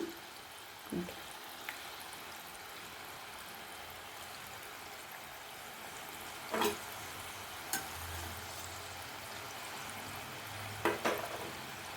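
Kodubale rings deep-frying in hot oil over a medium flame, a steady soft sizzle throughout, broken by a few brief clinks and stirring scrapes.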